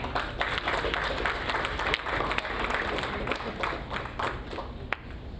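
Audience at a panel discussion on a school character development program breaks into sustained applause, a dense crackle of many hands clapping steadily with occasional sharper claps standing out.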